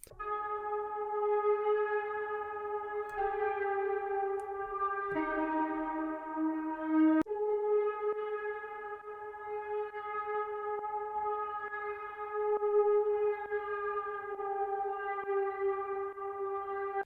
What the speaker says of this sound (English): Gonna introduce another like atmospheric lead drone.